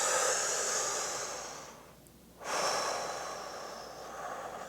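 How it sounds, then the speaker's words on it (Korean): Slow, deep breathing during meditation, a long airy exhale, a brief near-silent pause, then another breath drawn, close and breathy with no talking. "숨을 내쉬고 있어요"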